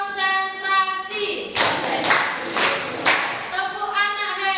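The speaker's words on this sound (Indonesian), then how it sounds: "kita coba tepuk anak hebat sekali lagi ya" Children perform the 'tepuk anak hebat' clapping chant, with four loud group claps in a steady rhythm, set between sung or chanted voices.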